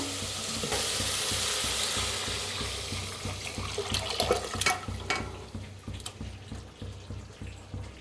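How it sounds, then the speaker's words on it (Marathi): Chicken stock pours into fried masala in a pan, turning a steady oil sizzle into bubbling, splashing liquid with stirring clatter, close and fairly loud, gradually settling into a softer simmer. "आता चिकनचं पाणी त्याच्यात मिक्स करूया"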